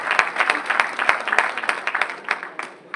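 Lively applause from a crowd at a large youth motivational event in Maharashtra, honoring a respected leader, with sharp individual claps standing out from the dense clapping throughout.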